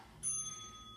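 A single bright bell ding cueing the next exercise in a cardio and core workout, struck once and ringing out with a clear lingering tone at low volume.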